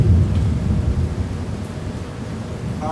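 A heavy rainstorm with deep rolling thunder, loud and close at first and easing slightly, a steady wash of rain over the low rumble, with no voices.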